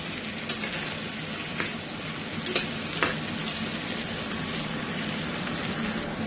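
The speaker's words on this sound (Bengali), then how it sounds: "পুরো পেঁয়াজটাকেই লাল করে ভাজতে হবে, মিডিয়াম টু স্লো আছে এটা করতে হবে" Onions frying in oil over medium-low heat for chicken korma, a steady close sizzle with a few soft stirring knocks against the pan.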